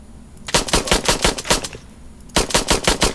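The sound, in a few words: mech gunfire in video game Mechwarrior Online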